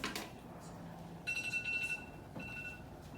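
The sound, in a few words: timer beeping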